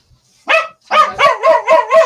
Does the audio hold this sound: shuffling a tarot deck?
no